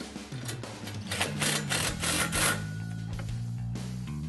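Hardware is tightened on a golf cart cargo box bracket for an E-Z-Go RXV with a whirring power driver, making a steady mechanical buzz with rising and falling pitch across several seconds.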